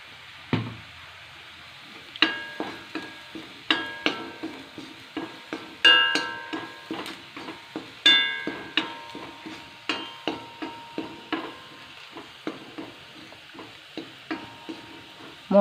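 Onions and chili powder fry and sizzle in a pan while a spatula scrapes and taps against the metal in a steady rhythm of sharp knocks, close and clear over a constant soft hiss.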